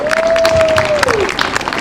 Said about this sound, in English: Can I get another round of applause for this?